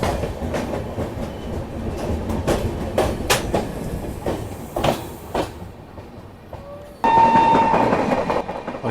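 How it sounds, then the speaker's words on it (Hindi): The Netaji Express rushes past a moving Suhaildev Express near Firozabad, a loud close clatter of wheels and wagons with sharp bangs, then a sudden swell of roar with sustained horn-like tones. "यहाँ पे लेजेंडरी नेताजी एक्सप्रेस जो है वो क्रॉस हो रही है अपने से"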